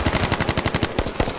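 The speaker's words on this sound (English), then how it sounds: "We're being shot from across the way." Rapid automatic gunfire in a shooting video game, a dense burst of quick repeated shots lasting just over a second, loud and continuous with no talk.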